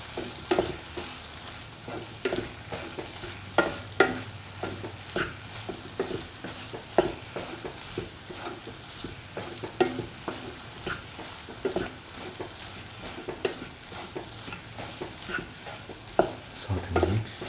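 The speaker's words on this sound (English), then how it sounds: "Mix thoroughly with the rest of the ingredients." Soya chunk and egg stir fry stirred in a hot pan, with spatula scrapes and clacks over a steady sizzle that runs throughout, close up, without speech.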